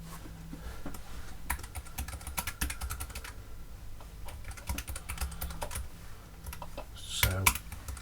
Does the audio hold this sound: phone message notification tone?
no